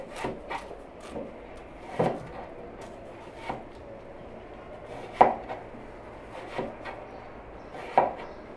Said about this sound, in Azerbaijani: Doğrayız, doğrayız.